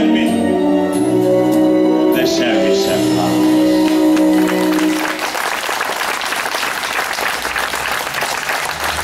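Audience at a live Hungarian concert performance: singing with accompaniment fades into loud, sustained applause from the crowd, with scattered shouts continuing for several seconds.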